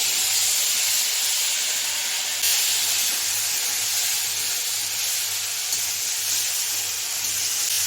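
A spoonful of ginger and green chili paste spatters in hot oil, giving a steady, loud, close sizzling hiss that runs unbroken throughout with no voices.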